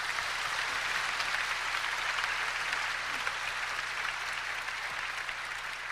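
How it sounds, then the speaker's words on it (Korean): Thousands of pastors gathered at a packed Korean church rally clap together for themselves, a broad, steady roar of applause filling a large hall, heard from a distance and sustained throughout. "우리끼리 스스로 박수 한번 치자."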